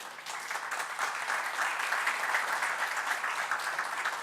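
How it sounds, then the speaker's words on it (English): An audience at the 10th ReSPA Annual Conference on public administration applauds the trainers, a sustained, even roll of many hands clapping in a large room, fairly distant and steady throughout. "they truly deserve your applause"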